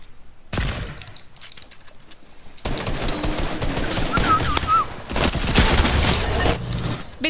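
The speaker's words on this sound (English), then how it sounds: "What the heck is he shooting at?" Dense bursts of automatic gunfire from Fortnite gameplay, starting after a brief pause and growing louder and more continuous toward the end, with scattered cracks layered in.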